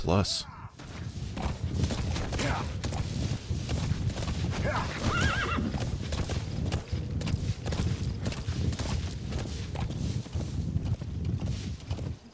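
Galloping hoofbeats of D-Horse in Metal Gear Solid V: The Phantom Pain drum steadily throughout, with a whinny early on and background game sounds, and a voice talking over it.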